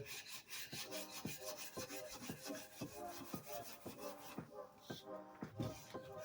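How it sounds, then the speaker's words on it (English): An abrasive pad rubs over a wooden rifle stock on a single-shot Savage farm rifle, a steady run of close, rhythmic scrubbing strokes that continues throughout at moderate loudness, with no talking. "Smooth those down with this mildly abrasive pad"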